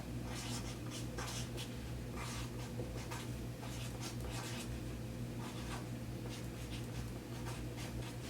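A pen scratches a label onto a paper half circle skirt pattern piece in a quiet room, a series of short, faint strokes repeating in an uneven rhythm close to the microphone.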